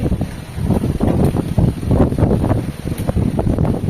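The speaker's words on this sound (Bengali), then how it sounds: "কিন্তু মাঝে মাঝে এত জোরে হাওয়াটা দিচ্ছে" Strong storm wind gusting outdoors beside a house, buffeting loudly and unevenly in rumbling bursts, with no voices.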